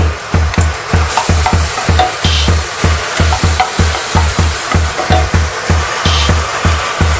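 About two tablespoons of butter sizzle in a frying pan on a gas stove, a steady loud hiss broken by a regular rhythmic thumping of stirring throughout, with no voices.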